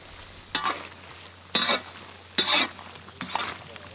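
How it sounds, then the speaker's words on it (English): Chicken ghee roast frying and being stirred in a pan, four short sizzling bursts with stirring scrapes spaced about a second apart, close and fairly quiet. "That ASMR action right there, dude, with the little sizzling,"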